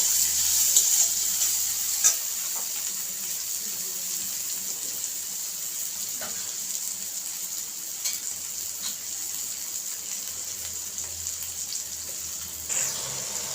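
Chopped tomatoes frying with garlic and onion for an egg pasta, a steady bright hiss of sizzling oil with a few soft stirring knocks, close and fairly loud, no one speaking.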